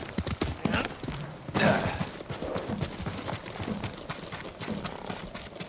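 Horses' hooves clip-clop steadily in the video game Ghost of Tsushima, near and fairly loud, with an occasional whinny and no talk over them.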